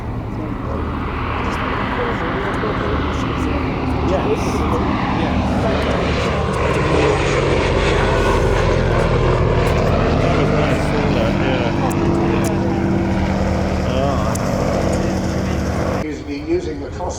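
A propeller aircraft drones steadily at an airfield, loud and sustained throughout, with people talking over the engine noise.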